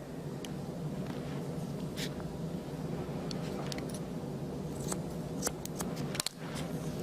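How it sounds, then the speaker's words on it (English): Curved shears snipping hair during a short business haircut, a series of quick, close, crisp cuts at irregular intervals over a low steady background hum. "you can use these curved shears for your perimeter line"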